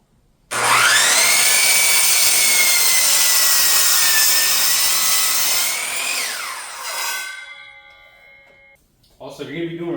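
A power saw slices a 5-degree bevel through lumber for a garage storage rack: one sustained, loud whining cut lasting several seconds, pitch dipping slightly under load, then the blade spins down, followed by brief rustling handling noise.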